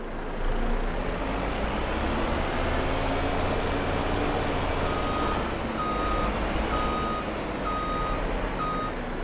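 A farm vehicle reverses while shifting a trailer in a grass-mowing operation. Its backup alarm sounds steady, evenly spaced high beeps over a continuous diesel engine rumble, with a brief hiss partway through.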